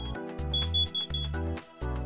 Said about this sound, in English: one of these alarms may sound when the batteries are low